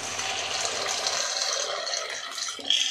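Salted water hisses and bubbles steadily at near boil, ending with a brief clink and splash as pasta drops in.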